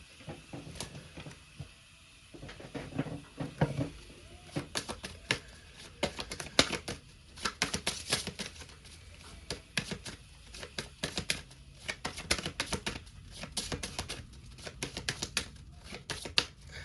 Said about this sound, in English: Sorry about that, I dropped some of the cards.